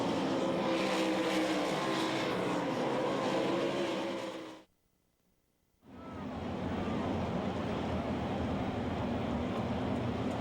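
Sprint race cars roar steadily in a heat race at the Knoxville Nationals dirt track, a dense loud engine wash that cuts out abruptly for about a second before surging back at full volume.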